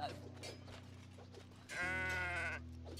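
A goat in the video game Kenshi gives a single drawn-out bleat lasting under a second, rising clearly above a steady low in-game hum.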